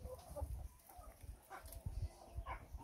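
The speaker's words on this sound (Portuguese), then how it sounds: "Aqui, o piruzão aqui, ó." A turkey at a rural farm property near Tarumã, São Paulo gobbles and clucks in short bursts among other farm birds, fairly faint over steady background rumble.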